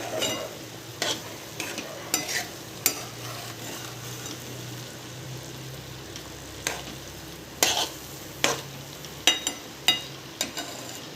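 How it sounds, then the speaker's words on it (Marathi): Sweet rice with melted jaggery gets stirred in a pan, a low bubbling sizzle underneath repeated sharp scrapes and taps of the spoon, close and irregular. "हे फिरून द्यायचं आहे अधूनमधून थोडंसं"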